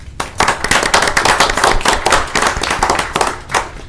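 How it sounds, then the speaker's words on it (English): A small group at a city council meeting claps briskly for a new council staff member, a short burst of close, distinct hand claps that rises quickly and fades out after a few seconds. "could give him a round of applause"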